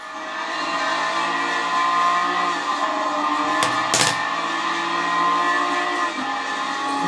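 Loud racing car engine in the game Forza 5 roaring steadily throughout, with a brief burst of noisy tire squeal or skid near the middle.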